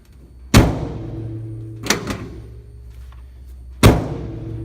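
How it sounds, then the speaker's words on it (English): A door on a raw-steel 1952 Chevrolet 3100 pickup shuts with three solid, close thuds spaced a second or more apart, with a faint low hum between them. "doors close very nicely."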